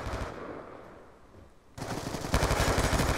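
Rapid machine gun fire from a first-person shooter video game, Black Ops II, bursting in loud and close after a short quieter lull and continuing as dense, sustained automatic fire.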